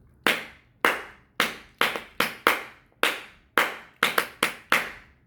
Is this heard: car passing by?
no